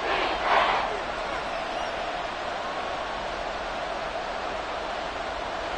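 A steady roar from a stadium crowd fills a Madden football video game, broad and constant, with a brief swell near the start.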